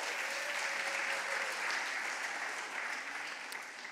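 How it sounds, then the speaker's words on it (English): A large audience claps steadily at a sports awards event in Aberdeen, a dense, even roar of applause heard at a distance with no break. "I think that is worth a round of applause."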